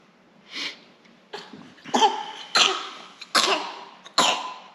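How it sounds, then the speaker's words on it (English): A young calf, a heifer still recovering from a lingering cough, lets out about six rough, harsh coughs spaced roughly a second apart, each a short burst against a quiet background. "He hasn't got over his cough quite yet."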